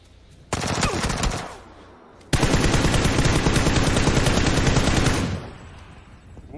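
Automatic gunfire in the video game PUBG on Xbox One: a short loud burst, a brief pause, then a long sustained rapid-fire volley of about three seconds that cuts off and fades.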